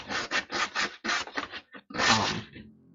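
Wood being hand sanded with sandpaper during a rough first pass over a carved stack of penguins, heard as a quick series of close, raspy back-and-forth strokes with brief pauses and a longer final stroke.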